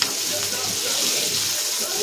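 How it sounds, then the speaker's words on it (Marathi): A tadka of oil with turmeric for stuffed brinjal sizzles loudly and close up, a steady hissing crackle for the whole two seconds with no break. "तेलामध्ये जेव्हा आपण तडका देतो"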